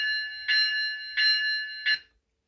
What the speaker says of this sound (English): One is the bell.